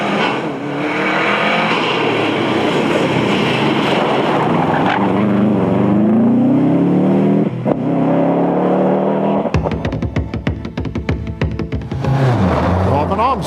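A Mark II Ford Escort rally car at the 1998 Sligo Stages Rally roars close by with a loud, rising engine note and revving as it slides sideways, then sharp rapid crackles and bangs, with commentary talking over it.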